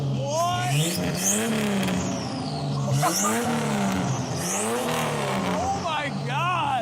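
A turbocharged Jeep Wrangler with stacked megaphone exhaust tips revs hard, its loud engine note rising and falling in repeated swells while excited voices exclaim over it.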